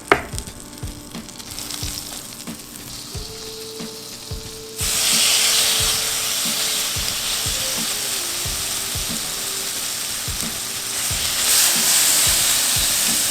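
Butter melting in a hot cast iron skillet: a few quiet clicks and taps, then a sudden loud, steady hiss of sizzling that carries on to the end.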